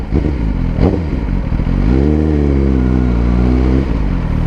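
A Suzuki GSX-R1000 sport motorcycle engine runs loud and close, with a quick rising rev followed by a sustained high-revving drone lasting several seconds.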